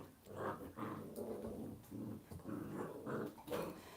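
Labrador puppies scrap and play-fight at home, giving repeated short growls and snarls in bursts, close and fairly loud, with no talking.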